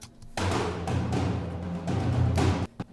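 Cinematic percussion, heard through a mid microphone that sets it toward the back of the room: a roomy, reverberant run of drum hits sustaining for about two seconds, with deep low thuds and a quick tail at the end.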